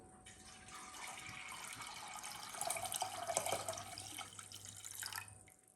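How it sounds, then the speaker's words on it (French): Water pours from a tap into a saucepan of mung beans for kitchari, a soft splashing stream that builds, swells in the middle and tapers off after a few seconds, close and quiet with no voices. "Et on rajoute de l'eau."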